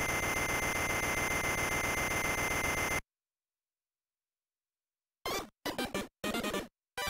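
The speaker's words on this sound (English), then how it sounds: "One noisy morning, turn off the alarm clock." A video game alarm clock in Wario Land 2 rings as a harsh, loud electronic buzzing for about three seconds, then cuts to silence, followed by a few short, clipped bursts of game sound.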